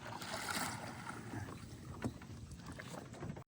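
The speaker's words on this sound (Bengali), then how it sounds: "বন্ধুরা ফাইনালি কিন্তু বোট কিন্তু চলে এসছে" A boat nears along a river channel in the Sundarbans, its low rumble and splashing water steady under wind noise, fairly close, with a brief louder knock midway.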